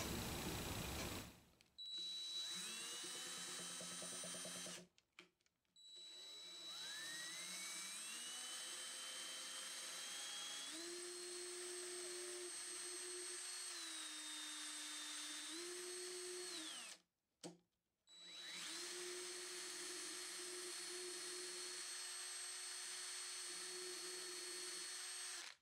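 Power drill boring holes into the body of a 1959 Gibson ES-125T hollow-body guitar, a loud steady whine that rises and shifts in pitch, stopping briefly twice before resuming.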